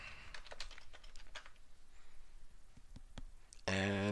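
Fingers tap out a short word on a computer keyboard, a quick cluster of close, light key clicks followed by a few isolated presses, ending in a brief tonal computer sound.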